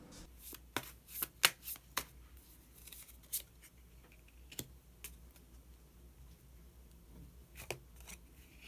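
Tarot cards shuffled and a hidden card drawn, giving a quick burst of soft riffling clicks and flicks in the first two seconds, then a few sparse card taps and slides close by in a quiet room.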